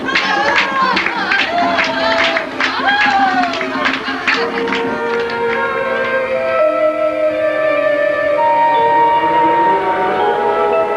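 A voodoo ceremony crowd with rapid beating drums and hand claps at first, fading into sustained chanting voices that carry on loudly to the end.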